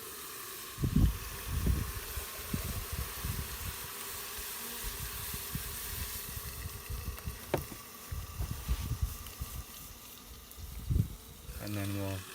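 Liquid is poured into a tube sealed against beehive brood comb during hygienic behaviour testing and boils off in uneven bursts of bubbling hiss, while someone talks over it.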